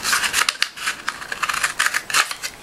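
Scissors snip through a cardboard toilet paper roll in a quick, uneven run of close, crisp cuts.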